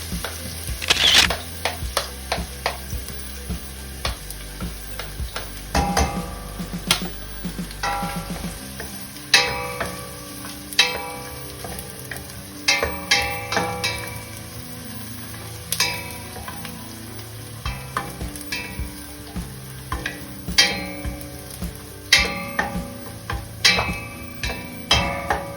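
Garlic sautéing in a pan, a soft continuous sizzle under frequent sharp clicks and scrapes of a utensil stirring in uneven bursts, close up and without talk.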